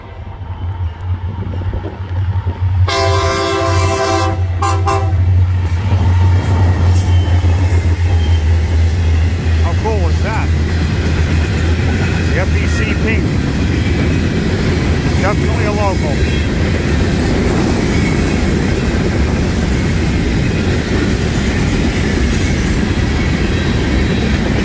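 A Florida East Coast Railway local train rumbles past nearby with steady clattering, and a short burst of horn blasts sounds early on over continuous rail noise.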